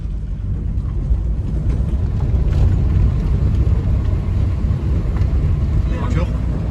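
A Renault Megane Coupé 1.6 16-valve engine drones loudly from inside the moving car, a continuous low rumble with road and wind noise throughout and a little talk.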